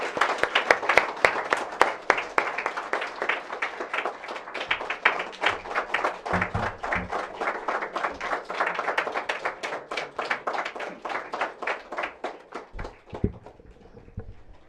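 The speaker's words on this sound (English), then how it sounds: "I invite you to give a round of applause to our Lieutenant Governor of" Round of applause from an audience at an International Women's Day celebration for the Lieutenant Governor of Maryland, individual claps clearly distinct and rhythmic, fading out toward the end with a few thumps.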